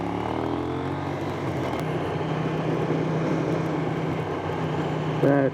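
A KTM 790 Duke motorcycle heard while riding, its engine a steady loud drone under rushing wind noise that holds throughout, with a brief tonal rise near the end.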